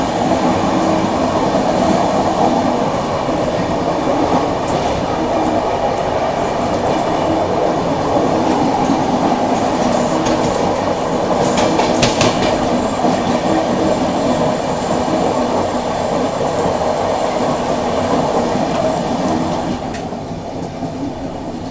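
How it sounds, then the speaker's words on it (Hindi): Dehradun–New Delhi Shatabdi Express passing on the adjacent track, heard from inside a moving train: loud continuous rumble of wheels with rhythmic clatter and some squeal, sustained close by for about twenty seconds before easing. "अभी देखो ये बगल से क्रॉस हो रही है देहरादून नई दिल्ली शताब्दी एक्सप्रेस।"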